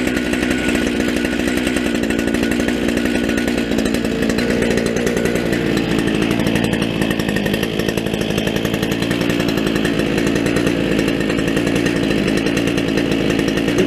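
Small two-stroke brush cutter engine running steadily just after its first start of the year, a loud, close, buzzing drone with no change in pitch and no talking.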